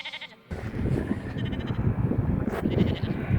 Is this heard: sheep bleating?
yes